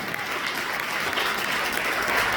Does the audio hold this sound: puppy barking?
no